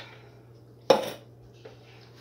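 A single sharp metal clank of a spoon against a pot while macaroni and twisty noodles are being mixed, followed by a brief scrape and a softer tap, with a low steady hum underneath and no talk.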